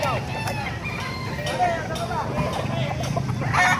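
A White Kelso gamefowl rooster clucks and calls among other birds in a noisy yard, with short repeated vocalizations over a steady background bustle and faint voices.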